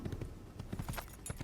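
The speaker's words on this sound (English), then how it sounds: "Is this our horse? Or is this Aaron? Okay, no, it is a horse" A horse in Assassin's Creed trots in a quick, steady clip-clop rhythm of close hoofbeats, alone without talk.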